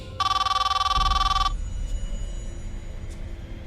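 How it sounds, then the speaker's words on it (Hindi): A telephone rings with a bright, steady electronic trill for about a second and a half, then stops, leaving faint room noise. "तभी उसके फोन की घंटी फिर से बजी।"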